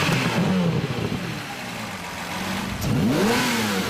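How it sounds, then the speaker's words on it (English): The V12 engine of a Lamborghini Murciélago roars loudly and steadily, with pitch sweeping up and down as it revs, heard alone without speech. "The completely renovated V12 has a blood-curdling roar."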